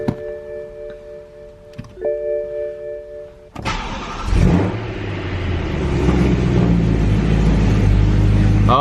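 A BMW E92 M3 after a tune: soft electronic chimes and a click, then the engine cranks and catches with a loud rev flare that settles into a steady, rumbling idle, close by.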